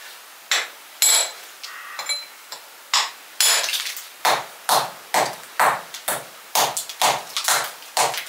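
A hammer strikes a stone again and again as it is trimmed for a retaining wall, sharp ringing blows at a steady beat, close and clear with no talking.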